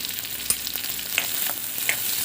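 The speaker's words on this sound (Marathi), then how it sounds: "कांदा असं छानसा फ्राय करून घ्यायचा" Onion frying in hot tempering oil with mustard seeds in a pan, a steady close sizzle with a few brief stirring clicks and pops.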